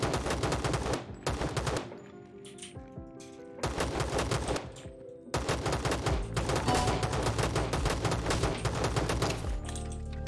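Rapid automatic gunfire in the mobile shooter Rules of Survival comes in loud, sustained bursts with brief gaps, joined by tonal game effects and sharp cracking reports.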